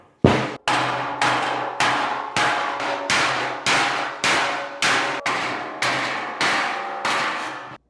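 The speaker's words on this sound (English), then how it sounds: "I'm going to try to get some of these dents out first here with this dead blow" A dead blow hammer pounds dents out of a forklift-crushed 12 gauge carbon steel fire ring, about a dozen loud, evenly spaced metallic clangs, each ringing briefly before the next strike.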